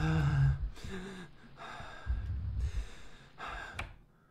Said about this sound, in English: That breathing is getting me lightheaded.